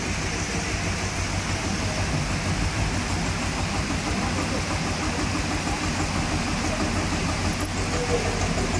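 A tractor engine idles and chugs steadily as it drives through water in the rain, a constant low rumble mixed with the hiss of falling rain.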